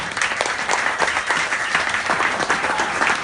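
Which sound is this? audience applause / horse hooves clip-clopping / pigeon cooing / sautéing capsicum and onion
audience applause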